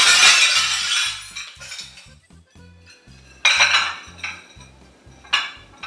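Dishes, glasses and cutlery crash and clatter as a tablecloth is yanked off a table, several loud bursts of clinking and shattering separated by short pauses.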